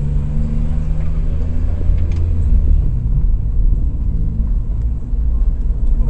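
A BMW E46 M3 rolls along at low speed as it pulls around, its engine giving a loud, close, steady low rumble that swells slightly partway through, with no talking.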